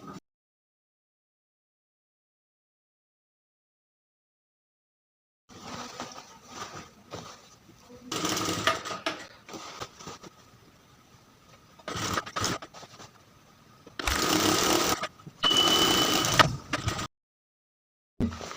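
A sewing machine runs in short bursts with pauses between, stitching a zipper onto trousers, fairly close, with rattling and scraping between runs. No talk.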